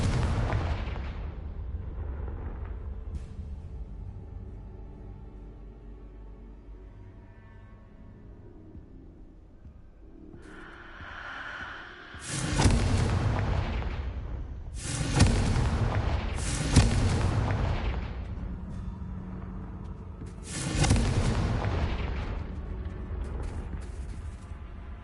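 Confringo explosive spells blast in Hogwarts Legacy, deep booming explosions following a quieter rumbling lead-in, several heavy loud blasts spaced a few seconds apart with lingering rumble, no talk.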